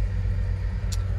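A 1976 Ford F75 pickup with its six-cylinder, 90-horsepower engine running: a steady low rumble, close and continuous, with a brief faint hiss near the end and no talk.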